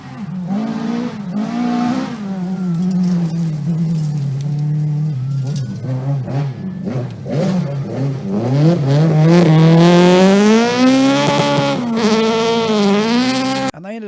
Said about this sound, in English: They pushed their Mark II Escort to the absolute limit,